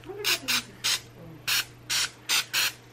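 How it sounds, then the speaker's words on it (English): Cooking spray from a shaken can is sprayed onto a pan while making breakfast: seven short, close hissing bursts in quick groups, each about a quarter second, with a low hum underneath and no talk. "so Carl, gonna spray the pan."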